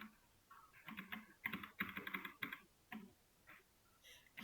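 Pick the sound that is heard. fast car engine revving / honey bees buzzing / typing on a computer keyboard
typing on a computer keyboard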